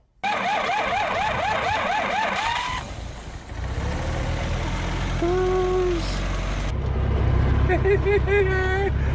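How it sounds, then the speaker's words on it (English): A Willys Jeep engine runs noisily on a drive around the block, a steady rumble with shifting pitch under other loud sounds that cut in and out. "I'm driving my Jeep. Very noisy."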